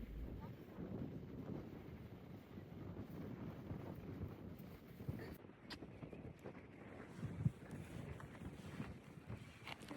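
Wind buffets the microphone in a steady low rumble, gusting in waves, with faint background sounds near open water.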